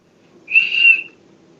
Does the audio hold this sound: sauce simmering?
no